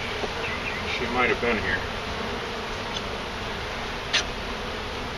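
Honey bees swarm in a dense, steady buzz during a bee removal, filling the whole stretch at close range, with someone speaking briefly over the hum.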